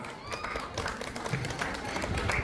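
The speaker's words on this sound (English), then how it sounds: "give them a 10th round of applause" Audience applause at a college annual sports day prize announcement, a steady wash of clapping from a crowd at moderate level with some voices mixed in.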